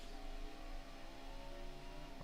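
A race car engine in NASCAR Heat 5 drones at a steady high pitch on the Sonoma road course, a sustained loud hum that dips briefly as it eases off the throttle before resuming.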